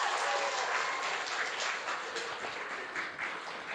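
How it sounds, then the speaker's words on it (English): Steady audience applause at a cultural sharing event in Happy Valley-Goose Bay, dense clapping from a crowd that tapers gently over a few seconds. "Another round of applause."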